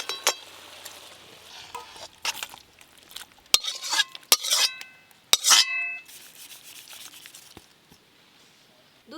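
Cooked okra curry scraped and poured out of a metal pan, sharp clinks and scrapes of a utensil against the pan in irregular bursts, fairly close with quiet gaps between.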